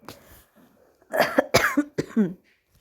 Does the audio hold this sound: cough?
yes